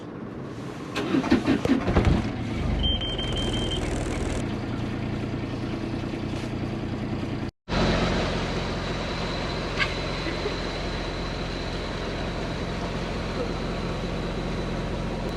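A Gemini 105MC catamaran's engine runs before departure from Ensenada on a cold morning, giving a steady broadband rumble with wind-like noise. The sound cuts out briefly midway, then resumes at the same level.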